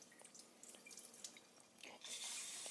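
Cloudy, starchy water from rinsing white rice pours off into a sink: faint drips and trickles at first, then a louder, steady splashing pour that runs to the end, with no talking.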